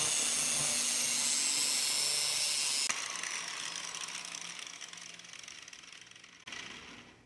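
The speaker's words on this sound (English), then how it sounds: "Grinder, run along the top." An angle grinder runs along the top of a steel press brake die, producing a high, close, continuous whine that drops in pitch and roughens partway through, then briefly surges near the end, with no talking.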